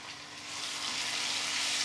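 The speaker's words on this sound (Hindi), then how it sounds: "अदरक लहसुन के पेस्ट को 1 से 2 मिनट भून लेना है चलाते हुए।" Ginger garlic paste fries in a pan while being stirred, giving a steady broadband sizzle that swells slightly and then holds even, with no voices.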